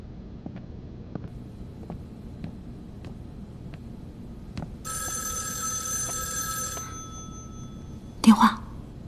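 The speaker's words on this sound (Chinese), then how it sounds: "电话。" A telephone rings in a quiet room, a trilling bell tone lasting about two seconds after some soft footsteps, followed by a brief clatter as it is picked up.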